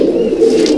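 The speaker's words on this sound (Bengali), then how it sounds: "মাদি পায়রা" A female Kagji Kalanka pigeon coos in a loft, one low, close, resonant coo lasting under a second.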